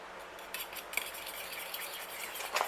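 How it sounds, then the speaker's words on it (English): A fork whisking royal icing in a bowl, quick light scraping and clinking strokes against the bowl, close and fairly quiet, with a few sharper taps. "Whisk them together with a fork"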